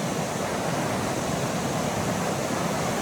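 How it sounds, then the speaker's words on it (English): Cold Smith River water rushing near a Northern California campground, a steady, loud broadband roar that fills the whole span without pause. "We are down here now, walking down to the Smith River."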